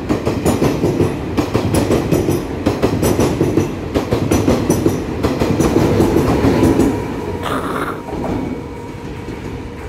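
A Taiwan Railway PP Tze-Chiang express train runs along the Hualien-Taitung line, a loud steady rumble of wheels on rail with rhythmic clacking throughout and a brief higher squeal near the end.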